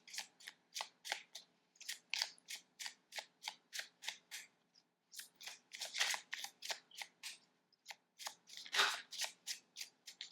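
Tarot cards are riffled and shuffled in quick, crisp bursts, close and fairly quiet, with a short pause midway before the rapid flicking resumes.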